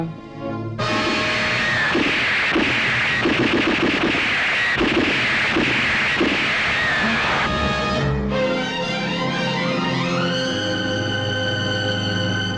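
Gunfire crackles through a film fight scene, a fast, dense volley of repeated shots that runs for several seconds before cutting out, then a swelling dramatic music sting takes over.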